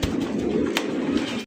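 Several pigeons in a breeder's loft coo in a low, throaty murmur, steady and close throughout, with a brief sharp click partway through.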